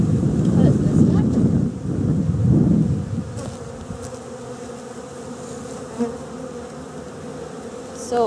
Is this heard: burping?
no